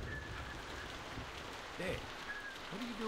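Steady rain falls in the video game The Walking Dead, an even hiss throughout with a brief voice-like sound and faint tonal game sounds over it.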